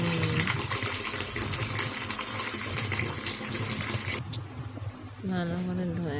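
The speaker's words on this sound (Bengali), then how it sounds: "সাজনা পাতাগুলি ভালো করে ধুয়ে নেব।" Water splashes and gushes as drumstick leaves are washed by hand in a home kitchen, a continuous close sloshing that shifts to quieter dripping and handling near the end.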